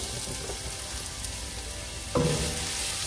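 Carrots sautéing in a pan for American chop suey, a steady soft sizzle with a sharper burst of frying about two-thirds through as more vegetables hit the hot oil; no talking.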